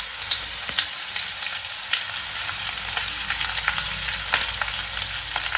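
Curry leaves dropped into hot oil with garlic for a dhaba-style dal methi tempering crackle and sizzle steadily, with sharp pops scattered through a continuous close, bright hiss and no talking.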